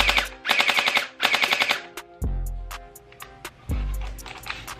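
Two short rapid-fire bursts come from a light-up toy gel blaster up close, followed by scattered clicks and low handling thumps in a quiet room.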